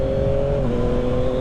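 A 2021 Yamaha MT-09 SP motorcycle engine drones steadily under load, with a brief dip in pitch as the quickshifter snaps through a gear change mid-pull.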